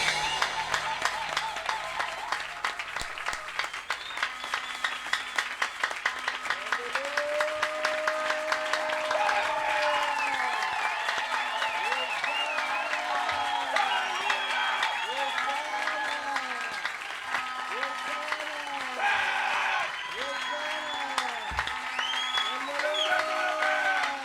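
Church congregation applauding after an evening sermon, sustained dense clapping from a large crowd that carries on throughout, with a voice speaking or singing over it.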